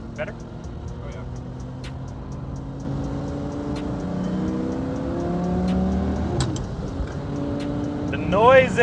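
A twin-turbo Lamborghini on a dyno revs and builds, its engine note rising over several seconds to a louder peak near the end, with people talking over the steady mechanical roar.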